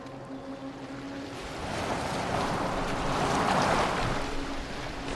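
A boat moves across open water in Assassin's Creed Valhalla, with steady wash of waves and wind swelling louder in the middle, continuous and close, with no talk.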